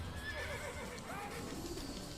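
A horse in the Assassin's Creed video game whinnies, with a brief neigh rising over faint hoof clip-clops and soft game ambience at moderate loudness.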